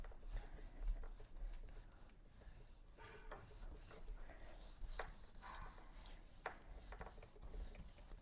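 A brayer rolls and rubs over paper laid on a gel printing plate, producing a soft, close scraping and rasping in repeated strokes with quiet pauses between passes.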